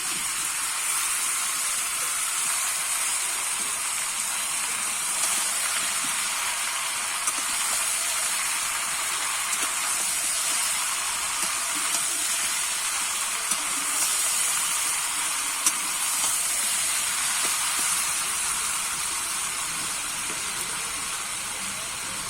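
Vegetables, including fried Malabar spinach, added to a pan for a village-style fish-head dish, giving a steady, loud, broadband sizzling hiss that runs unbroken throughout.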